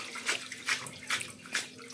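Cold water poured over freshly cooked noodles, several rushing splashes in bursts, close and fairly quiet with no talking.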